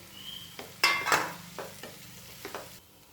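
Bitter gourd pieces land in a hot pan of spiced oil and are stirred, giving a close, soft sizzle with a burst of louder frying as they drop in, then several scrapes of a spatula, with no talking.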